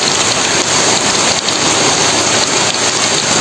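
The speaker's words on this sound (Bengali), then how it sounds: "বলতে না বলতেই ওদিকে দেখো বৃষ্টি শুরু হয়ে গেছে" Steady, dense rain pours down without pause, a continuous close hiss of drops striking a surface with no voices present.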